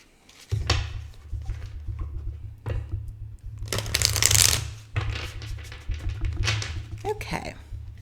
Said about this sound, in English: Let's do one more little shuffle.